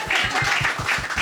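An audience at a stand-up comedy show bursts into applause. The clapping is close and lively, with a quick pulsing rhythm, and lasts only about a second.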